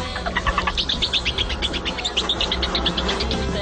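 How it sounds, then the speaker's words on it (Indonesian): A genetically engineered mouse chirps like a songbird, giving rapid series of high, thin tweets in quick bursts over a low background hum, close and fairly clear. "mereka berhasil menciptakan tikus yang dapat berkicau seperti seekor burung"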